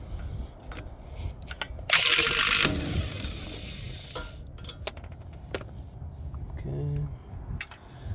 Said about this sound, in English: Let's get this axle nut up and out of here.